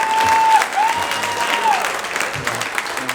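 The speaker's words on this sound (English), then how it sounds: "Clap if you got somebody in your family." A comedy club audience breaks into loud, brief clapping, a dense burst of applause that tapers off over a few seconds, with a faint tone and some voices mixed in.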